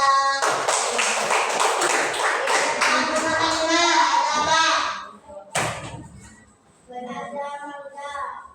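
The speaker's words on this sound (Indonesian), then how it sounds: "Tepuk tangan untuk Cika" Classroom clapping for a child named Cika: a burst of quick, dense claps from several children close by, fading out after about five seconds, with teacher and pupil voices around it.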